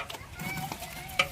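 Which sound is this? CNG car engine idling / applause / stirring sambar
stirring sambar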